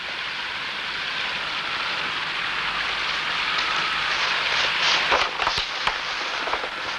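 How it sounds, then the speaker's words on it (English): Heavy rain pours down in a steady, dense hiss that swells slightly toward the end, with a few sharper drips and knocks breaking through. "it's still raining cats and dogs"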